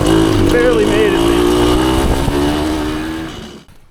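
A 1974 Honda MT250 two-stroke enduro motorcycle rides through the woods, its engine droning steadily and loud up close before fading out at the end, with a voice talking over it.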